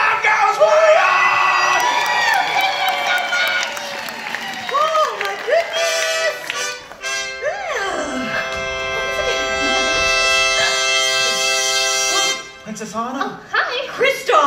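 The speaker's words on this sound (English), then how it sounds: "The crowd goes wild!" Audience at a live Frozen singalong stage show cheers, yells and whoops loudly, the crowd noise filling the space beneath singing voices and sustained musical tones before easing off near the end.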